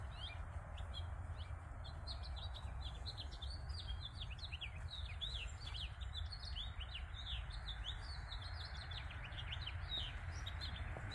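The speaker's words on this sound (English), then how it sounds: "Love the sound of the bird." A bird chirps and tweets repeatedly in short high calls over a steady low background rumble, with no talking, in a garden.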